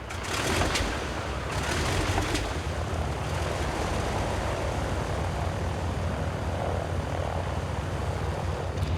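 Junkers 52 transport aircraft drone with the low, continuous roar of propeller engines. The sound is loud and steady throughout, with brief rattling bursts near the start.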